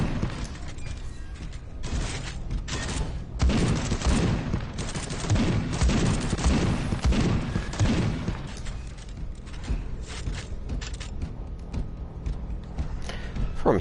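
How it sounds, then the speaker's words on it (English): Shotgun fire in the video game Space Hulk: Deathwing, heard as repeated heavy blasts and mechanical clatter in a dense, continuous stretch of combat noise that stays loud throughout before thinning slightly near the end. "Shotgun is not the most accurate weapon."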